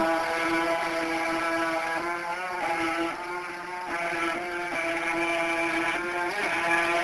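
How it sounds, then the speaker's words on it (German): A boat motor drones steadily with a strained, buzzing tone, its pitch wavering slightly as it labours through floodwater at an airbase. "Das Boot muss ja auch schon arg kämpfen"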